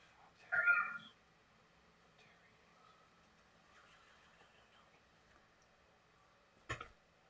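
Kittens give a short meow near the start and another brief sound near the end, faint, over a quiet room with little else.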